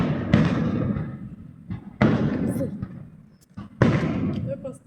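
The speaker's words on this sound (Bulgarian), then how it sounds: "Те тази заря в чест на Стилян е правят, да знаеш." Celebration fireworks for a birthday burst outdoors in three sharp booms spaced about two seconds apart, each trailing off in a crackling rumble, with voices audible between the bursts.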